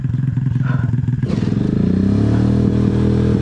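A motorcycle engine labors and revs upward on a steep climb, its pitch climbing steadily as it pulls hard, with some clattering underneath.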